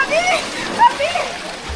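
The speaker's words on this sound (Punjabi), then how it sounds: "ਲਓ ਜੀ ਆਹ ਵੇਖੋ ਜੀ ਪਾਣੀ" Floodwater splashes and sloshes around flooded homes in Dera Baba Nanak, a brief watery wash heard under close, steady talking voices.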